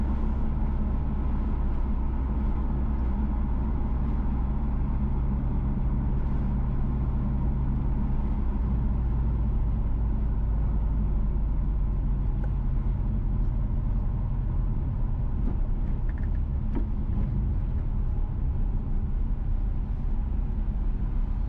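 Constant low road and engine rumble from inside a car driving west along Michael Manley Boulevard toward downtown Kingston, Jamaica, a steady drone with no talk.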